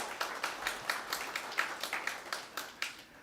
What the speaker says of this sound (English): please clap for yourself that you all have made it possible for us